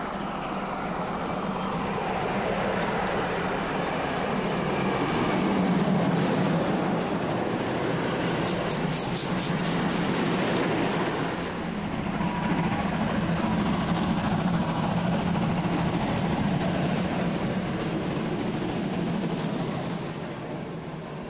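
A steam locomotive rumbles along the rails for a long stretch, a steady heavy roar that swells and eases slightly as it rolls past.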